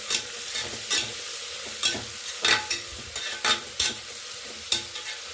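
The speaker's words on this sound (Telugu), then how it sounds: "ఇవి కూడా బాగా దోరగా వేగేలాగా ఇలా ఫ్రై చేసుకోవాలి" Onions and green chillies fry in a pan for coconut rice, with a soft constant sizzle under repeated scraping strokes of a spoon stirring them, close and steady.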